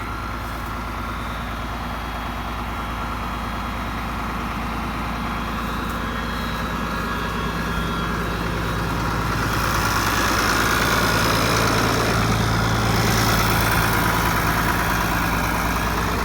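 A tractor engine runs steadily throughout while baling hay on a hillside, a continuous loud, low droning rumble with no talking.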